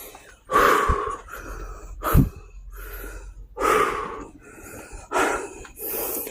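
Heavy panting after climbing into a cave: a run of loud, close, breathy gasps and snorting exhalations, coming in uneven bursts separated by short pauses.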